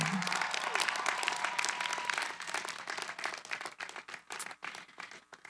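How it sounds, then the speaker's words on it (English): Audience applause at a university master's commencement ceremony honoring faculty, a large hall of clapping that starts full and dense, then thins into scattered individual claps as it dies down. "give them a round of applause because they're pretty amazing"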